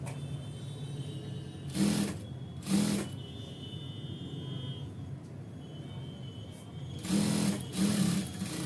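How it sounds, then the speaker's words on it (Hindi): A sewing machine stitches an ankle-length pant in short bursts, two quick runs of mechanical whirring followed later by a longer run, close and clear over a quiet room hum, with no talking. "उसके बाद में आप आ जाएंगे इस और सिलाई लगाते हैं"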